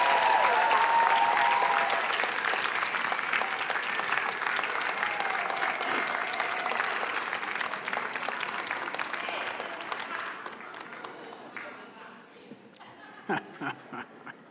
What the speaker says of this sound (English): So I'd like to call upon the graduates to offer a round of applause and whatever other sounds you can make.